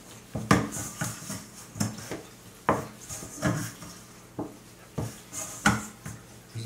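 Pretzel dough being kneaded by hand on a table to work in butter produces a series of dull rhythmic thumps and presses, roughly one every second, close and alone.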